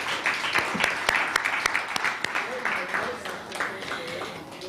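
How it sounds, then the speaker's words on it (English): Audience applause at a Women in Leadership event, a round of clapping that runs steadily and moderately loud throughout, with voices talking over it. "Let's give Ntokozo a round of applause."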